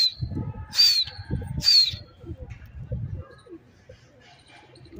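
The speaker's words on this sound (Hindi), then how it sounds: "ये जा रहा भाई कबूतर" Pigeons kept for flying give low, murmuring coos, broken by two sharp, high chirps near the start, and the sound fades toward the end.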